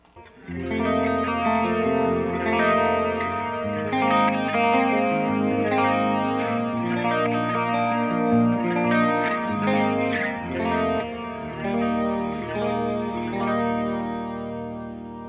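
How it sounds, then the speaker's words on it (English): Electric guitar played through an ENGL Savage amplifier on its clean channel, sustained chords with chorus-like shimmer ringing out steadily, loud and alone with no talking. "let me pull up the freaking Engel Savage clean tone"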